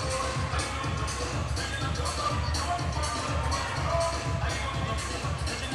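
Crowd at a Saturday morning high school volleyball game at Brownsville Veterans Memorial High School, a steady indoor murmur of many voices with scattered shuffling and faint shouts, holding at an even moderate level throughout.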